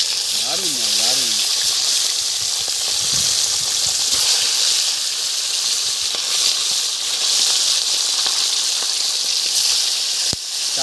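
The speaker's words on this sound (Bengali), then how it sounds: "তেল গরম হয়ে গেছে, মাছগুলো ভেজে নেব। মাছের সাইজ দেখুন, গোটা গোটা মাছ। রুই মাছ ভাজা হচ্ছে।" Whole rohu fish fry in hot oil in a village pan, giving off a loud, steady sizzling hiss that continues throughout the clip with brief hints of a voice.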